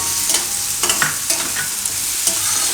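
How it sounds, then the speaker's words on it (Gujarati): Tomatoes frying in a pan for Jain pav bhaji, with a soft steady sizzle and repeated scraping stirs every half second or so, close and alone without talk. "અને તરત આપણે ટમેટાં નાખી દઈશું. ટમેટાને આપણે પાકવા દઈશું."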